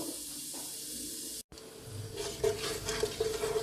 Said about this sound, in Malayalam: ഇത് നന്നായിട്ട് ഒന്ന് മൂക്കാൻ വേണ്ടി ഒന്ന് ഇളക്കണം